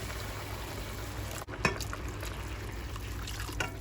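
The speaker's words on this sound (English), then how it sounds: "then add in some water." Water is poured into a pot of stirred spices, cardamom and turmeric among them, giving a soft continuous liquid splashing and trickling with a brief clunk partway through, fairly quiet and without talk.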